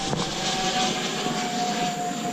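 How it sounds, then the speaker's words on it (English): A large jet airliner passes overhead during a fishing outing, a steady broad engine roar with a thin whine, moderately loud and unchanging, with no voices. "Big old jet."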